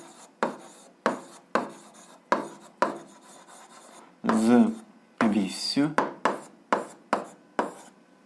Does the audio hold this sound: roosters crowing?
no